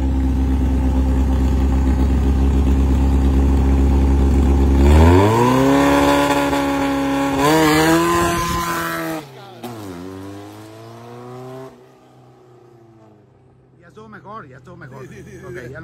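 Car engine revving up and climbing through gear changes while driving, loud and close, with the pitch rising, dropping at each shift, then settling lower; a voice speaks at points.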